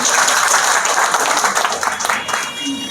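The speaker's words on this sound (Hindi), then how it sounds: "ऐसे हमारे बीच में अकरम अंसारी साहब, एक बार इनके लिए जोरदार तालियां हम सबको बजाना चाहिए।" Loud, steady applause from a crowd at a political gathering in India, a dense clapping wash filling the whole stretch with voices mixed in.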